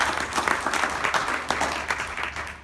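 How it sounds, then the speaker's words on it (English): Audience applause at a mayoral candidate forum in Fulshear, Texas, honoring the current mayor: steady, dense clapping from an indoor crowd, fairly loud and sustained throughout. "Let's give him a round of applause."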